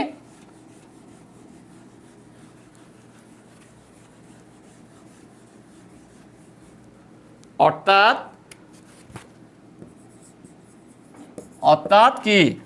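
Writing on a classroom board is rubbed out in soft, scratchy wiping strokes, and a teacher's voice breaks in with short bursts of speech.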